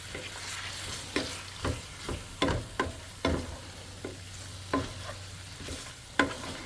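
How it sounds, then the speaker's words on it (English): Onions fry in a pan of oil for chicken tacos. A close, steady sizzle carries a dozen or so sharp clacks from a utensil being stirred and scraped in uneven bursts, with no voices. "So I'm just getting the oil to cover, getting the onions in."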